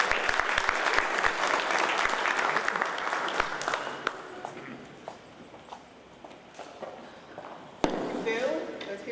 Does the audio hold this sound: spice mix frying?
no